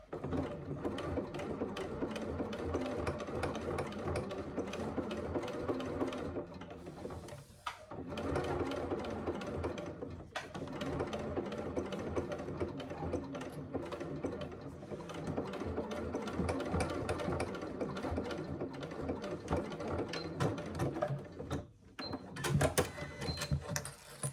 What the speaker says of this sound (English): so there I've top stitched along the faux leather.